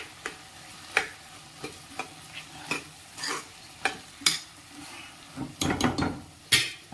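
Tomatoes going into a pot of soft-cooked potatoes and peas: scattered spatula clicks and scrapes against the pan, then a louder clattering burst near the end, all close and without speech.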